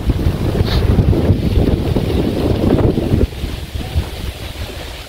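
Strong wind buffets the microphone in a continuous rumbling roar, easing slightly toward the end.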